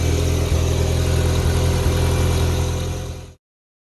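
A Honda car with shift linkage trouble, engine running as it is parked, a steady close idle with slight surges that cuts off abruptly near the end.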